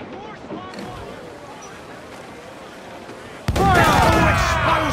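Ship cannons boom in a naval fight in Assassin's Creed 4 Black Flag, with a loud, dense burst of gunfire erupting over background wind and crew shouts partway through.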